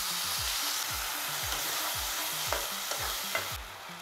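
Potato and spices cooking in a pan just after a splash of water goes in, a steady sizzle and hiss with repeated stirring scrapes in a regular rhythm, close by with no talking.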